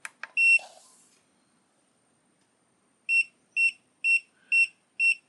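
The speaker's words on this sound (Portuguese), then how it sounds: "Dá o bip aqui embaixo" A FNIRSI DWS-200 soldering station, powered on with no tip fitted, gives a quick chirp at switch-on and then a warning of five evenly spaced, clear electronic beeps, close and alone.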